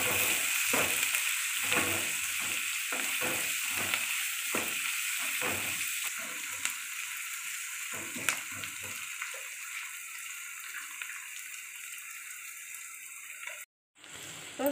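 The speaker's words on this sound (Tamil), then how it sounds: "இப்போ வெங்காயம் நல்லா வதங்கிடுச்சு" Onions sautéing with salt in a pan, loud rhythmic stirring scrapes over a bright sizzle for the first several seconds, then only a thinner, steady hiss, with a brief cut near the end.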